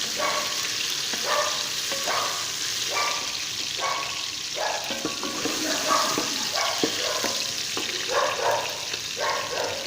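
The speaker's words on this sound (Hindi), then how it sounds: "बहुत प्यारा तड़का बन रहा है" Tomatoes with ginger-garlic paste and green chilies frying in a pan for a tadka for black masoor dal, with steady sizzling broken by rhythmic bursts of stirring and scraping throughout, close and moderately loud, no talking.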